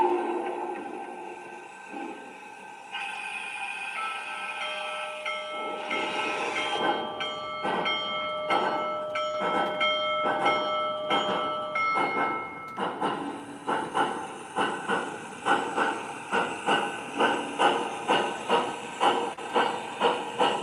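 Lionel and MTH model train of a Big Boy T1, with a steady hiss and chuff that builds into a rapid, rhythmic clickety-clack of the running locomotive, loud and close, with long sustained whistle-like tones layered over the first half.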